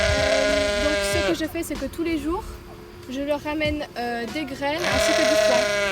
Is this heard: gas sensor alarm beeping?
no